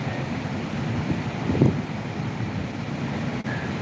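Steady broadband rush of the flooded Manjra river near Latur, continuous and fairly loud throughout with a brief surge near the middle, no voices.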